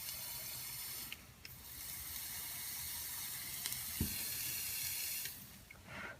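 Dual vape coils dry burning sizzle and hiss softly and steadily, with a few small clicks and ticks scattered through the quiet, close-up crackle. There is no speech.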